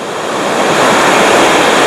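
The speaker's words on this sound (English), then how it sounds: "The undertow and the rip is even worse because the waves come up," Ocean surf at Lace Curtains Beach on the Great Ocean Road surges loudly and continuously, a dense roaring wash of breaking waves with wind across the microphone and no voices.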